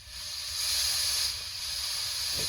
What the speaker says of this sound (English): Just slowly put the compressed air on